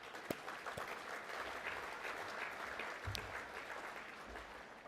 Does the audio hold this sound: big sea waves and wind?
no